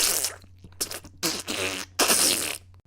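A human voice imitates diarrhea farts with a handful of wet, sputtering, spluttering bursts separated by short pauses, close and fairly quiet.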